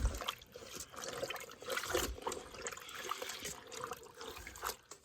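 Water poured from a lidded container onto clothes to wet them down, a close, steady splashing trickle with uneven surges and no talking.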